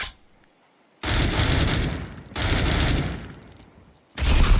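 Automatic gunfire shooting through walls in the mobile shooter Critical Ops: three loud, close bursts of rapid rattling shots separated by short silences, the first bursts lasting over a second each.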